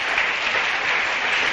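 Church congregation applauding for Christ during a sermon, dense continuous clapping filling the room, loud and unbroken with no voices over it.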